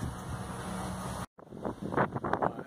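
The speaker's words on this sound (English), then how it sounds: "Average wind speed, according to my weather station, is about 11 miles an hour." Wind blows across the microphone at the site of a micro-wind generator installation, a loud rumbling buffet that cuts out briefly and then returns in gusts.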